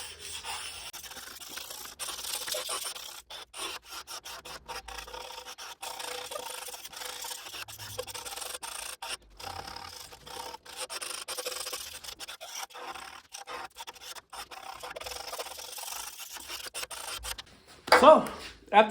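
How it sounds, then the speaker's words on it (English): A scraper is pushed across the cast-iron top of a SawStop table saw to remove rust nibs, making repeated close, rasping scrapes in uneven strokes with short pauses between them. "now you can just watch me basically scrape this whole table"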